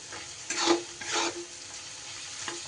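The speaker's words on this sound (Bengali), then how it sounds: "এই তেলের ওপরে কিন্তু এই লঙ্কার গুঁড়ো আর হলুদের গুঁড়োটা দিয়ে দিতে হবে" Chili and turmeric powder frying in oil in a pan for a potato and pointed gourd curry, with a soft continuous sizzle and two or three stirring scrapes, close and fairly quiet.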